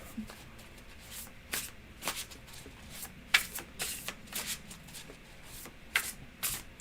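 Tarot cards being shuffled during a reading, a quick series of soft, close riffling and sliding bursts repeating unevenly, fairly quiet.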